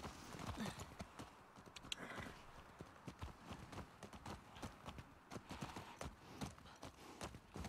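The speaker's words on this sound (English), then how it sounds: "You can actually get in front of Dina on the horse." Horse hooves clip-clopping at a trot in the video game The Last of Us Part 2, a quick, steady run of close, sharp hoofbeats with faint game ambience beneath.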